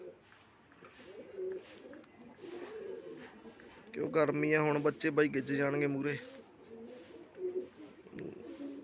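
Pigeons coo in a burst of deep repeated calls near the middle, close and fairly loud, while someone speaks in Punjabi before and after under quieter background murmur.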